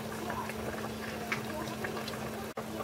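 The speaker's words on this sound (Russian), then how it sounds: "Так, вот у нас кипит." Pear jam simmers in a pot on a stove, a soft steady bubbling with scattered small pops and a low hum underneath, fairly quiet and close, with a brief dropout near the end.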